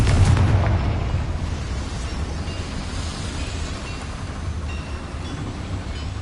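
A Confringo blasting spell explodes in Hogwarts Legacy with a loud, broad boom at the start, then a heavy rumble that rolls on steadily and slowly tapers off.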